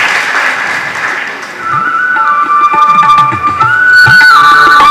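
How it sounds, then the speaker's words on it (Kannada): Applause fills a scholarship distribution ceremony at a welfare trust's tenth annual awards event, dense clapping at first that thins out as a steady whistle-like tone rises and holds over the remaining seconds. "ಪ್ರೋತ್ಸಾಹದಾಯಕ ಕೈ ಚಪ್ಪಾಳೆ ನಿರಂತರವಾಗಿ ಬರಲಿ"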